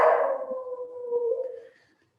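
A single dog howl, close and clear, rises and then holds a long wavering tone before trailing off into silence.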